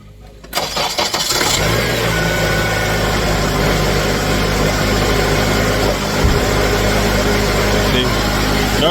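A car engine cranks briefly and catches, then settles into a loud, steady idle that runs on evenly, heard close up during work on the A/C compressor.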